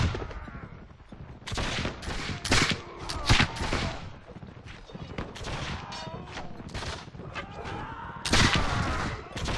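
Carbine gunshots and other firearms go off in Mount & Blade: With Fire and Sword, a battle soundscape of repeated sharp reports near and far, with overlapping volleys and crowd noise behind them.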